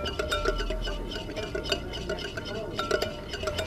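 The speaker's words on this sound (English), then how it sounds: "If it's not so steady, you have to whisk a little faster." Salad dressing is whisked briskly in a bowl for a summer tortellini salad, a rapid, steady metallic clatter and scrape against the bowl, close and continuous with a voice speaking over it.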